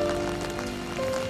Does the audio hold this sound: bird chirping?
no